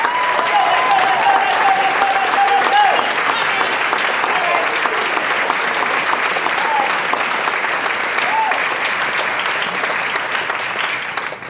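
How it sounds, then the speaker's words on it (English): A large audience claps loudly and continuously, with a few whistles and cheers rising above the dense applause. "we really need to give them a round of applause"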